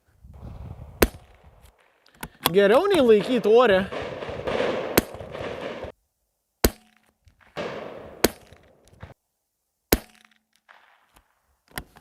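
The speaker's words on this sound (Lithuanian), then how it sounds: "Padarykim 5 šūvius." Rifle shots ring out at target practice, roughly seven loud, sharp cracks spaced a second or two apart, with someone talking between some of them.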